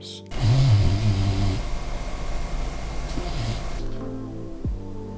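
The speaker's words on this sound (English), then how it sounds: "It really helped me to hang out with this snoring dog." A dog snores in loud, low rumbling breaths close by, with a steady background hum underneath.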